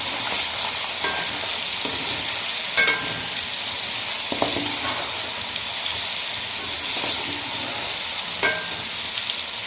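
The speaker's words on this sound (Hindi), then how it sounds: "हमारा चिकन ज़बरदस्त फ्राई हो गया है। तो अभी इस टाइम पे नमक, काली मिर्च और कुटी हुई मिर्च ये ऐड कर देंगे।" Chicken karahi with salt, black pepper and crushed chili frying hard in a wok, a loud continuous sizzle broken by several sharp metallic scrapes and clinks of stirring.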